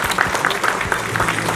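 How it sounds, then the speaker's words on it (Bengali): Audience applause at an award show, a steady dense patter of many clapping hands with some crowd noise, sustained at an even level throughout. "হাততালিটা শুনবো আর একটু জোরে প্লিজ"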